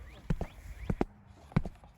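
A goat's hooves clip-clop across a bridge in a storybook telling, a few sparse hollow knocks spaced unevenly over two seconds against a faint background.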